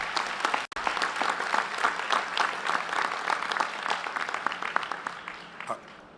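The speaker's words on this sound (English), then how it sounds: "applause." A university commencement audience breaks into sustained applause, a dense wash of many hands clapping steadily throughout, with some voices mixed in.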